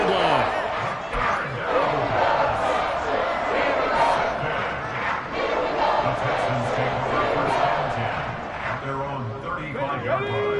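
Football stadium crowd at a Houston Texans home game against Arizona, a dense continuous roar of cheering and hubbub that stays loud throughout, with no clear single voices standing out.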